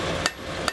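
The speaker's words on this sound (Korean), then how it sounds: "망치 소리." Blacksmith's hammer strikes metal twice in a Korean smithy's forge, two sharp ringing blows over steady background workshop noise.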